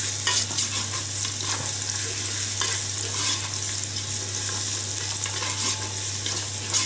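Vegetables such as courgettes frying in hot oil in a pan, a continuous crackling sizzle heard close and steady throughout, with occasional soft stirring scrapes and no talking.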